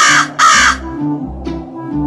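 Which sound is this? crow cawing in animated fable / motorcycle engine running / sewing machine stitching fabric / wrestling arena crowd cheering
crow cawing in animated fable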